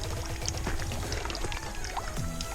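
Spring water trickles and pours steadily at Bellow Spring along the Old Baldy Trail up Mount Wrightson, a continuous near babbling with small splashes throughout and no talking.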